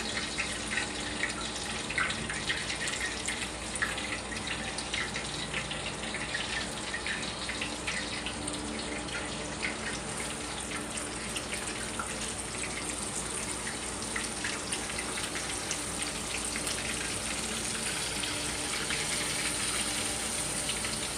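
Floured chicken pieces frying in bubbling oil in a cast iron skillet, a steady dense sizzle and crackle running continuously at an even level throughout, with no talk over it.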